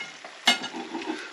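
An egg fries in a lightly oiled pan, a soft continuous sizzle that flares with a sharp crackle partway through, then keeps bubbling quietly and close.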